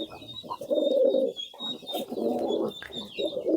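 Domestic pigeons coo in a home loft where one bird has laid eggs, giving repeated low, throaty rolling coos in several bursts, close and fairly loud, with faint chirps above and no talking.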